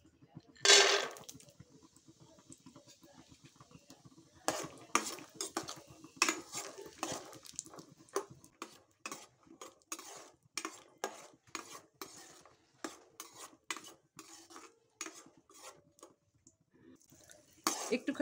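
Peanuts fry in hot oil in a wok while a spatula scrapes and stirs them, a sharp clatter at the start, then a run of irregular metallic scrapes and taps over a faint low sizzle, close up.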